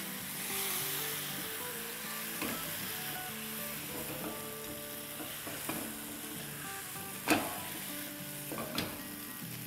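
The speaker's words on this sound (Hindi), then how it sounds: "और अब इसमें हम डाल देंगे अपनी चिकन। और इसे हम भून लेंगे।" Chicken fries in masala in a pan with a steady soft sizzle, joined by occasional scraping stirs and a few louder clanks of the spoon.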